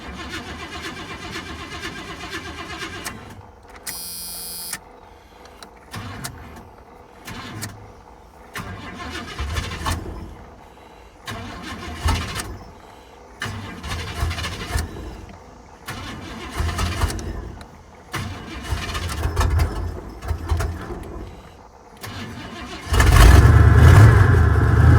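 An 86 car that has sat unused for a while cranks several times in short, uneven bursts, then catches and settles into a loud, rough running engine close by.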